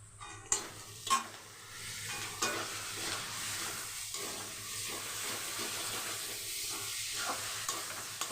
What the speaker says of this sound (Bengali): এবার আমি যে বেটে রেখেছি সেই রসুন আর কাঁচা লঙ্কা আর পেঁয়াজটাও দিয়ে দেবো। এটা দিয়েও খুব ভালো করে ভেজে নেব।